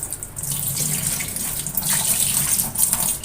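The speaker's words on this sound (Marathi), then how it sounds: "आता आपली अळूची ना पानं धुवून घ्यायचे आहेत आपण" Running tap water pours steadily while taro (alu) leaves are washed at a sink, a continuous close splashing hiss with slight shifts as the leaves are moved under the stream.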